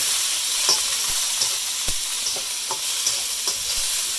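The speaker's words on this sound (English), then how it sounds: "I'm going to add my broccoli. I'm going to keep stirring." Broccoli stir-frying with ginger and garlic in a pan gives a steady high sizzle with scattered scraping stirs and light clacks of a utensil, close and continuous, no talking.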